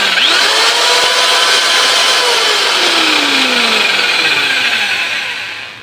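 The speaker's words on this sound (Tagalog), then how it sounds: "Paandarin na natin yung barina" A handheld electric drill powered up for a current test with a budget clamp meter, its motor whining steadily and loud throughout, with pitch sweeps as it spins up and settles, then a brief tail-off at the end.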